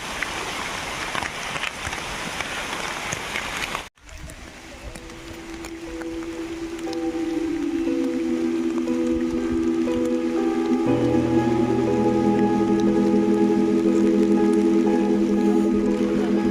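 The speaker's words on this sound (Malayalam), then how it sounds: "നല്ല മഴയാണ് കേട്ടോ." Heavy rain in the Ponmudi hills at dusk, a dense steady hiss for the first few seconds before an abrupt cut to a quieter scene with droning tones.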